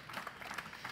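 A crowd at a SuomiAreena 2017 panel discussion claps, a soft, continuous patter of many hands heard from some distance.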